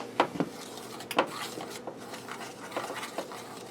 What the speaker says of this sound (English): I'm going to go ahead and mix this up